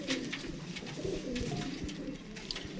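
Pigeons at a Faisalabad breeder's loft coo softly and repeatedly, with overlapping low calls and faint fluttering over a steady background murmur.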